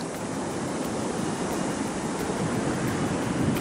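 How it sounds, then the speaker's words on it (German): Ocean waves roll in through a channel along the Mexican coast, heard from a sailing yacht as a continuous broad roar of surf and wind that stays steady and fairly loud throughout, with no voices. "Kommen manchmal ganz schöne Wellen rein."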